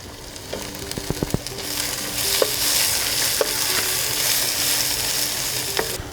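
Green onion, garlic paste and ginger frying in a pan for roasted eggplant bharta, a steady loud sizzle with sharp scraping stirs and clinks of a utensil, the sizzle swelling midway and continuing throughout without talk.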